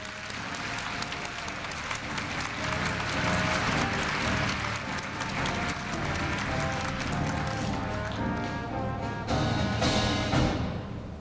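A large audience at a Korea University freshman entrance ceremony applauds in a broad, sustained wave of clapping that swells and continues for several seconds, with faint music or voices underneath.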